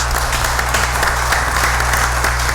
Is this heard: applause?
yes